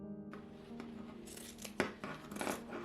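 Scissors snip through corset fabric in a quiet room, a few short crisp cuts close by, alone.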